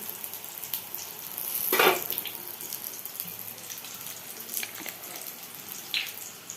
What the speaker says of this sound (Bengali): এটার মধ্যে একটু জল ঢেলে দিলাম।